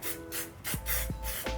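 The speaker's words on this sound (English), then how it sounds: "spray and oil my tin" Several short hissing bursts from an oil spray can greasing a cake baking tin, each a quick pressurized spritz, close by and fairly quiet, repeated in a loose rhythm.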